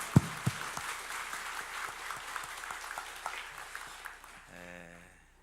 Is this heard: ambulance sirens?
no